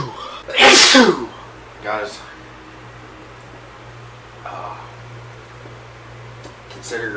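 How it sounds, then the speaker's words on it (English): One loud, explosive sneeze up close, followed by quieter breathy sounds and brief vocal noises over a faint steady hum. "Here comes the fucking sneezing."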